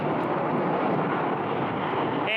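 Airliners including a UPS MD-11 taxi at Phoenix Sky Harbor Airport, making a loud, steady jet-engine roar that fills the whole stretch, with a rising whine entering right at the end.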